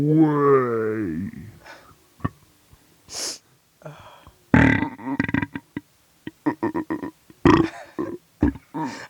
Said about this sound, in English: Stinky burps.